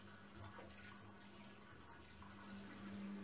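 A Samsung washing machine drains water during a Daily wash 40 cycle, making a soft, continuous gurgling rush of flowing water, quiet and steady with no talking.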